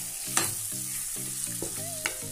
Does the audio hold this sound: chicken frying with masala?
yes